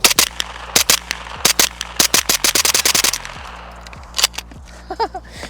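A suppressed Car 15 SD carbine with a binary trigger fires subsonic 9mm rounds in quick sharp pairs and bursts, close and loud, ending with a few spaced shots and faint tinkling brass.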